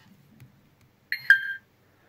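RC car transmitter for drag racing setup giving a short pair of electronic beeps as its rotary dial is turned, close and clear in an otherwise quiet room.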